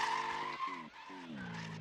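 Tires skid and squeal on a car in a street-legal driving video game, several wavering screeches over a low engine drone with brief breaks between them.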